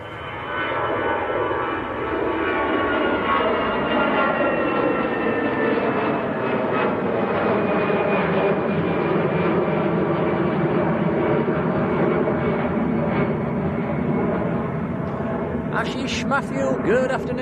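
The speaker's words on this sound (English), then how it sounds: "Easyjet to Geneva, just getting airborne." An easyJet jet bound for Geneva lifts off at Manchester Airport, a loud, sustained engine roar with a high whining tone and slowly shifting pitch, heard close and steady; brief speech appears at the very end.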